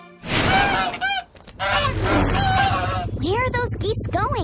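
Loud, close geese honking in repeated harsh calls, overlapping with one another, with a voice speaking through part of it.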